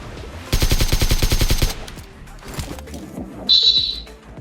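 Rapid automatic gunfire from a balloon gun in BGMI (PUBG Mobile), a burst of about a dozen quick shots, then quieter game sounds and a brief high whistling tone.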